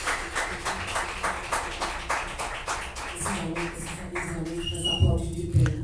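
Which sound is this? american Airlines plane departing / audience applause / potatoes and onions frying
audience applause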